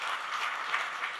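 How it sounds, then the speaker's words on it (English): Steady applause from an indoor audience at a live post-budget business round table, a dense wash of many hands clapping with slight swells, sustained throughout without speech. "Can we have a warm round of applause"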